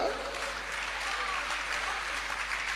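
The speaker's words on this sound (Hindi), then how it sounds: "अब तुम देखो ये सभा में कैसे ताली बज रही है।" An audience claps during a Jain religious sermon in Rishabh Vihar, Delhi, a dense, even wash of applause from a large gathering that holds steady throughout.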